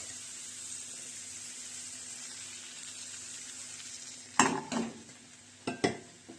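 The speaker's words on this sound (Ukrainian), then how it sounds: "будемо смажити шоколадні млинчики" A steady, quiet sizzle of a chocolate pancake frying in an oiled pan, interrupted near the end by a few sharp scraping clatters of a utensil against the pan.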